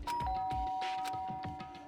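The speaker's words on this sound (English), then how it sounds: "and pressed the doorbell." An electronic doorbell in the video game Danganronpa: Trigger Happy Havoc chimes with steady ringing tones over a busy background of thumps and noise.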